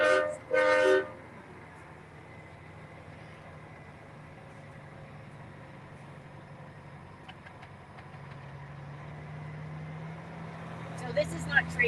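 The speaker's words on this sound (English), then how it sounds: "Honk your horn, Alan." A loud car horn blares at the start, then an engine idles steadily before a few shorter honks sound near the end, at a trucker convoy.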